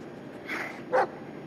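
Bullet the dog from the Blair Witch game gives two short barks, the second louder and sharper, close by and with no talking over them.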